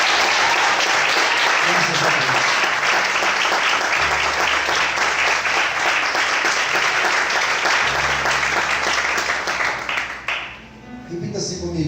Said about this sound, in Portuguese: Você pode desocupar sua mão e aplaudir ao Senhor Jesus